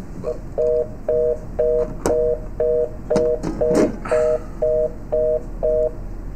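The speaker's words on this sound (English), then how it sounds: "We're probably going to hear a really cool answering machine thing go on." A steady series of about a dozen evenly spaced electronic telephone answering machine tones beeps, with a few clicks and rattles mixed in partway through.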